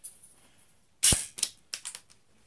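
A Toy XBOW toy crossbow fires a sticky arrow with one sharp, loud snap, followed by a few quicker, fainter clicks and rattles in an otherwise quiet room.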